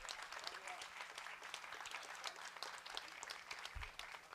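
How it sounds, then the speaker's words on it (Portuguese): A church congregation applauds the Lord during a worship service, with faint, dense clapping throughout, a voice speaking over it and a low thump near the end. "Aplaude o Senhor, porque Ele é bom."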